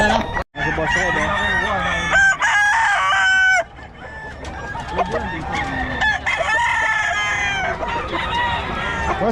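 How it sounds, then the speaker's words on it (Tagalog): Roosters crowing and chickens clucking at a Filipino gamefowl seller's yard, with loud, close crows rising and holding, then a busy overlapping mix of calls from several birds throughout. "Boss Rod, magkano mga manok mo ngayon?"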